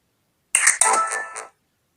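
A phone notification alert chimes once, a short bright tonal jingle of about a second in an otherwise silent stretch, close and clear.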